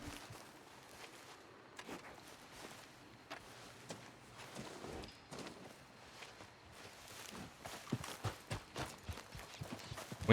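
Horse hooves clip-clop at a walk in Red Dead Redemption 2, faint and irregular at first, then growing into quicker, louder strikes toward the end.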